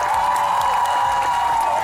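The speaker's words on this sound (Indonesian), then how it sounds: "Boleh kita berikan tepuk tangan ibu-ibu." Studio audience applauds on a TV cooking show, a dense steady wash of clapping that stays loud and even throughout the short stretch, with no voices standing out.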